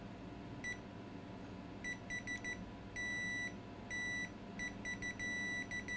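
A multimeter set to continuity mode tests a touch filter, sounding a series of short and longer high-pitched electronic beeps in irregular bursts over faint background hum, with no talking.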